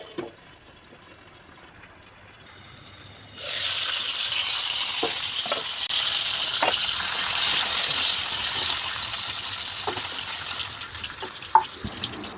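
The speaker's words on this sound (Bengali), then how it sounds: "আবারও কড়াইয়ে তেল দিয়ে এই যে নুন হলুদ মেখে রাখা পটলগুলো দিয়ে ভালো করে নাড়াচাড়া করে ঢেকে দেব" Pointed gourd frying in oil in a wok, a steady loud sizzle starting partway in after a quieter opening, with occasional scrapes and clinks of stirring throughout and no voices.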